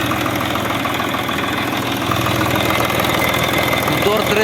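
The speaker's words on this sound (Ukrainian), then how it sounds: "Моторчик ідеально працює." A three-cylinder tractor engine chugs steadily and fairly loud, a rough rhythmic low-mid throb with some vibration, running without a break.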